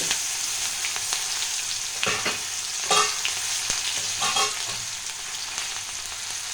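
Chopped onion hits hot oil in a pan after fish has been fried, sizzling loudly and close, with a few bursts of spattering and stirring scrapes over a constant frying hiss.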